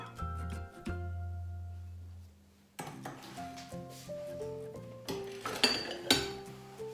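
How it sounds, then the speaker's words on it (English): An egg, butter and sugar being mixed in a bowl for cookie dough, heard as ringing glassy clinks and scraping taps of a utensil against the bowl, close and irregular, building in pace after a quieter start, with no talking. "now we can pop that egg in with our butter and our sugar and mix it all together"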